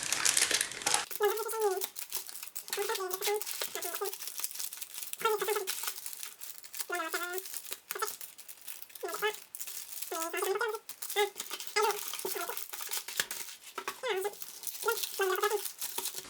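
A fake Destinées Radieuses card booster pack bought from AliExpress is torn open, giving close plastic crinkling and rustling throughout while a person talks intermittently over it.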